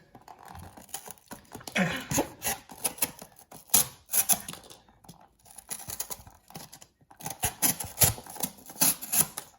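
A MAXAM lockback knife cuts through paper with uneven rasping and tearing bursts, close and scratchy, in irregular strokes with short pauses between them.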